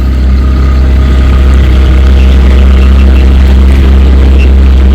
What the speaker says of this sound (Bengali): অবশ্যই পুরীতে এসো আর এই স্পিড বোট রাইড নিও